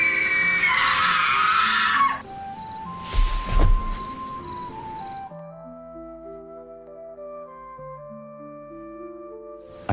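Agonized screaming from a collapsing woman, loud and harsh for about two seconds, followed by a sudden burst and then eerie sustained tones fading into an uneasy ambient drone.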